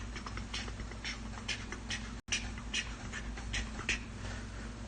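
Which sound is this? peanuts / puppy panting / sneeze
puppy panting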